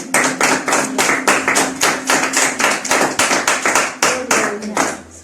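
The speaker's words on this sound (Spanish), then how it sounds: "Démosle un fuerte aplauso al Señor." A church congregation claps in a loud, steady rhythm, sharp beats repeating evenly for several seconds. A faint sustained tone runs underneath, and the beat turns briefly ragged near the end.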